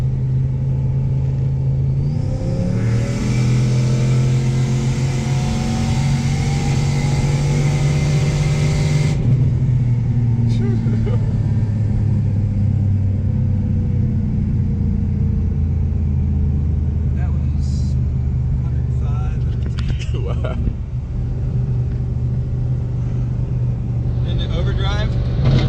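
A turbocharged 4.6L Ford Mustang GT making 520 wheel horsepower cruises along, its engine droning steadily with a low rumble heard from inside the car, a rising whine partway through, and people talking over it.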